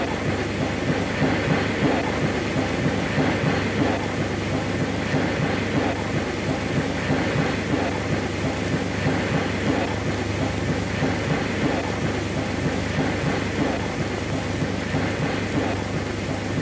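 A streamlined DRG Class 05 steam locomotive rumbles steadily along the rails for the whole stretch, a dense, continuous roar without pauses or voices.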